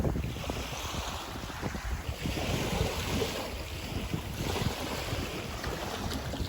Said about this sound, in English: It is raining. It is a little windy.